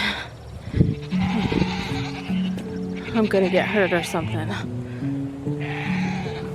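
Goats bleat repeatedly on a farm, their wavering cries rising and falling close by while a person talks over them.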